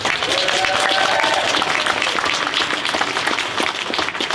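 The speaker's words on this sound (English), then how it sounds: "Let's get a round of applause for the Anarchist Book Fair." Audience applause at the Sacramento Anarchist Book Fair, a steady dense wash of clapping that holds at full strength for about four seconds, with a faint voice briefly audible partway through.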